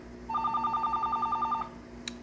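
A telephone rings with a rapid warbling electronic trill lasting over a second, clear and close against a steady low background hum, followed by a faint click.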